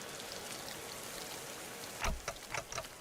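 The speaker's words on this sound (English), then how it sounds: "Red rain falls from the sky, enveloping her." Red rain falling in the video game Limbus Company, a soft steady patter that turns into a burst of heavier drops and splashes near the end.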